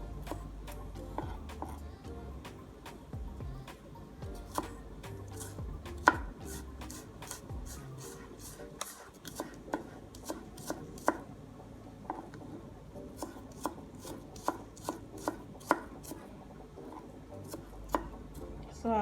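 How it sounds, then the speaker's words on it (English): Knife finely chopping vegetables on a cutting board for saltfish-stuffed plantain boats, with a steady run of sharp, close, irregular taps throughout and a short pause midway. "So I'll chop them as fine as possible"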